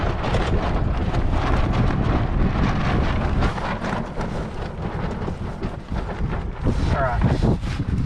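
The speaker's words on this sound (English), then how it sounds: "We're getting some gusts now." Gusty wind buffets the microphone aboard a small sailboat, roaring in uneven surges, with people talking over it throughout.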